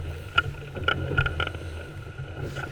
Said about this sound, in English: I'm always pleased with my over 5 knots going to windward from a gaffer